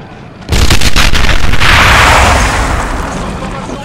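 Gunfire and explosions roar through a World War II battle in Tunisia in the Valour mod of Men of War: Assault Squad 2, a sudden loud onset of cracking shots followed by a sustained, dense rumble.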